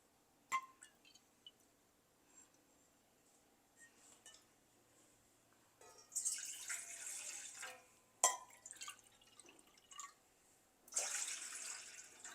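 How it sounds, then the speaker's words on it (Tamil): Water poured from a cup onto millet in a kitchen, heard as a few short splashing pours with brief glassy clinks and drips between them, fairly close and quiet, with no talking. "இப்போ இந்த கப்லேருந்து நான் 2 கப் தண்ணி சேர்க்குறேன்."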